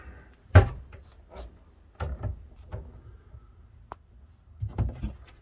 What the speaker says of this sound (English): Another cabinet with some shelving.